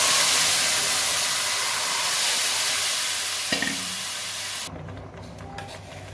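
Mung dal tipped into a pan with fish head cooking in it, a steady sizzling hiss that swells briefly as the lentils drop in, then quiets to a softer simmer with a few stirring clinks.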